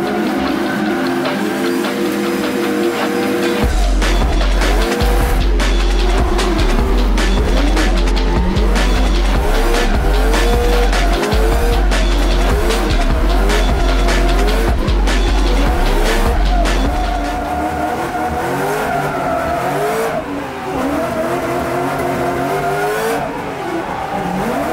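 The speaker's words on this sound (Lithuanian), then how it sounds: "O dabar pirmas ratas, mažai sukibimo, reikia padangas pritrinti." A race car laps a track on cold tires with little grip, its engine revving hard and dropping through gear changes while the tires squeal and skid repeatedly, loud and close throughout.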